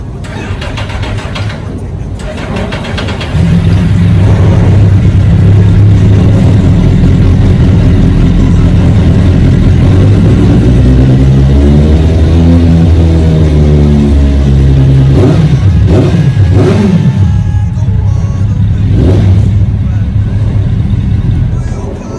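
Superbike engine with its exhaust starts and settles into a deep, loud idle, then revs up and down in rising and falling sweeps before easing back, close by.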